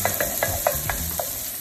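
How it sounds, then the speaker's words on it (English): Mushrooms seasoned with black pepper cooking down in a pan, a soft low sizzle with a series of quick, evenly spaced scraping stirs over a brief stretch. "mushroom here with some black pepper. And we're gonna continue to cook this down."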